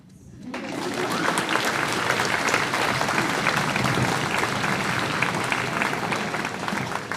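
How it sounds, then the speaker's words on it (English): Audience at a seventh grade middle school band spring concert breaks into loud, sustained applause that rises quickly and holds as a dense wash of clapping. "Round of applause."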